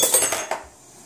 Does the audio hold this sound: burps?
no